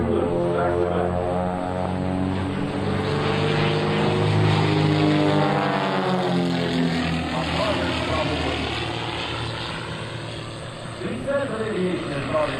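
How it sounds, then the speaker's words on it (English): A propeller aerobatic plane of an air show display team flies back-to-back loops, its engine droning loud and steady with slowly shifting pitch as it climbs and floats over the top of each loop. "Floating the aircraft over the top for the second of the 2 loops back to back."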